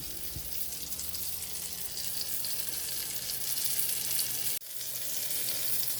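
Stuffed French toast cooking slowly in a pan on low heat, giving a steady, even sizzle and crackle that runs unbroken apart from one brief dip.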